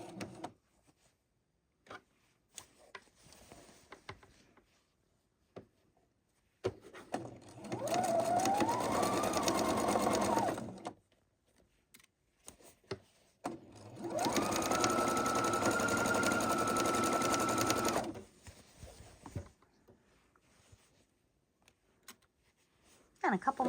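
A sewing machine stitches a tote bag seam in two sustained bursts. Its motor whines and the needle chatters steadily, separated by quiet pauses with light handling noises, close up.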